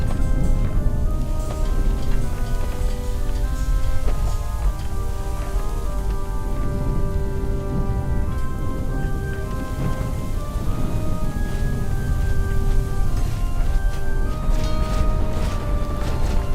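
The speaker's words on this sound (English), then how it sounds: "it's just the hail making that noise when it hits the villager's armor" Hail patters and clatters against villagers' armor in the Rise to Ruins video game, a dense, steady rattling wash over a low rumble, with sparse metallic clinks scattered throughout.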